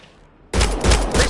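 Sudden volley of gunfire in Mass Effect Andromeda, bursting in loudly after near silence and continuing as rapid, overlapping shots.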